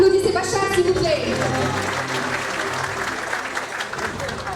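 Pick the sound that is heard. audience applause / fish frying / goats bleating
audience applause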